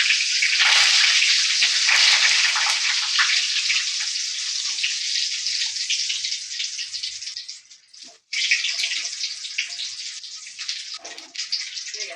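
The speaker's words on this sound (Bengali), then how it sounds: "এই দেখো এভাবে আমি সব ভেজে নিচ্ছি।" Namkeen chanachur ingredients deep-frying in hot oil give a loud, continuous close sizzle with a brief dip partway through and no talking.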